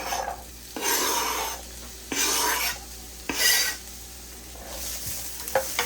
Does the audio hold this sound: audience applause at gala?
no